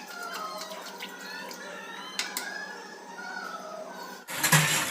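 Water trickling and dripping in a clogged kitchen sink during cleaning, thin running sounds throughout, ending in a louder burst of rushing water.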